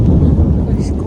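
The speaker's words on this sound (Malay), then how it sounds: "Guruh." A deep, rumbling roll of thunder in a forest on a hike, low and continuous, with a brief brighter swell near the end.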